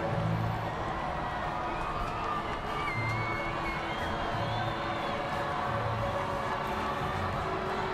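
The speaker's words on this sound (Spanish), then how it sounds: "ese alboroto, esos aplausos, esos cánticos a Benedicto XVI no han parado de sonar durante toda la tarde" A large crowd of young people cheers and chants for Pope Benedict XVI at a World Youth Day gathering in Madrid, a constant distant roar of voices with scattered whistles, unbroken throughout.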